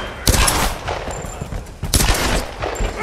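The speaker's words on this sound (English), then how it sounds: "I'm shooting them from behind cover and they can't shoot me." Video-game gunfire in Tomb Raider as enemies are shot from behind cover, with loud bursts of rapid shots in two main volleys and scattered single cracks between them.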